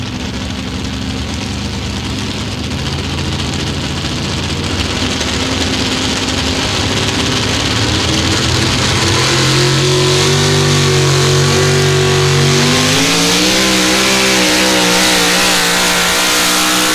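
The Simon Says drag racing truck at the 300 Raceway Farley Nationals in Iowa, its engine droning loud and steady, then climbing in pitch with rising revs and shifting tone as the run builds, close and overpowering.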